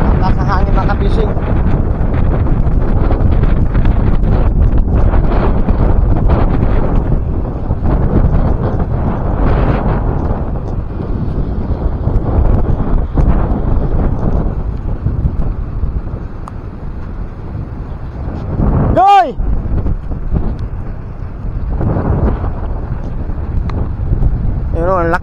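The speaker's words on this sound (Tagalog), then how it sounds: "Yan, lakas na yung hangin." Strong wind with big waves buffets the microphone in heavy, roaring gusts throughout, with a brief warbling tone partway through.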